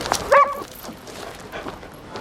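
A sniffer dog checking a bag gives a single short, close bark-like yelp, followed by faint whimpering against a low background murmur.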